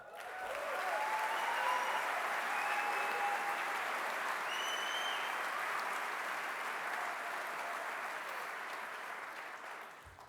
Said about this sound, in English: Let's give them a much-deserved round of applause.